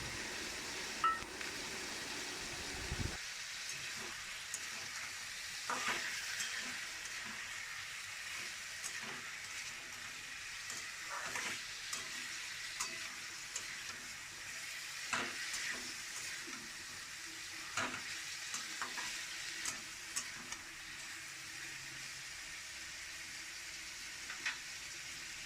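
Chicken frying in goat fat sizzles softly and steadily, with quiet scrapes and clicks from stirring throughout.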